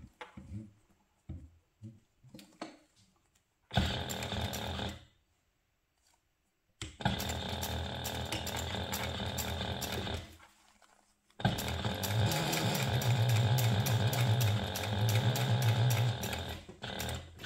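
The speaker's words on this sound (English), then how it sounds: "we're going to top stitch beneath that seam, also using a 1/4 inch seam allowance" A sewing machine topstitches a 1/4 inch seam along the gusset of a crossbody toiletry bag, running in three bursts of steady motor hum with short pauses between them, the last and longest run louder and closest.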